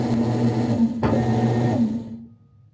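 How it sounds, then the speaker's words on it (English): A Whirlpool washing machine, noisy and in need of a clutch kit replacement, hums steadily with a low motor drone while agitating, with one sharp click partway through before the sound winds down and stops. "Now the washer is agitating."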